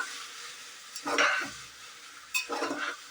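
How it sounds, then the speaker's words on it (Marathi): Cashews sauté in a pan for a green palak pulao, heard as two short bursts of stirring and scraping over a quiet frying hiss, with a pause between them. "हे थोडेसे काजू आहेत, हे पण ह्याच्यात घालायचे आणि चांगले परतून घ्यायचे आहे"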